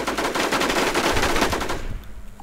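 Automatic gunfire in the zombie survival shooter WarZ, a rapid, loud, close burst of repeated shots lasting about two seconds, then cutting off abruptly.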